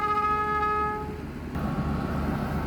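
Express train 86, hauled by diesel locomotive 4152, sounds a sustained multi-tone horn at Salaya station that cuts off after about a second, followed by a steady low rumble of the train rolling through.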